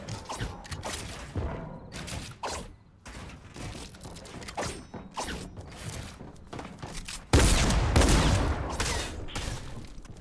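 Rapid gunfire from another player in an online shooting video game, with scattered bursts and shots followed by a louder, denser barrage near the end.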